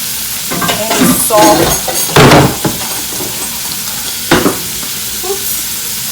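Crabs cooking in a pot for a seafood legumes dish, with stirring and scraping and a faint sizzle, then a clink of a utensil. A voice speaks briefly and softly.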